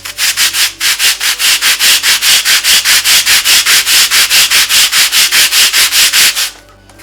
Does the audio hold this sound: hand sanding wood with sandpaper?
yes